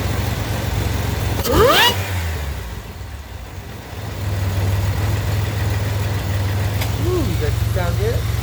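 2007 Pontiac Grand Prix GT with an XPZ cam, idling with a lopey rumble, blipped once in a quick rising rev, then dropping to a quieter idle before the steady drone returns with a small second rev near the end.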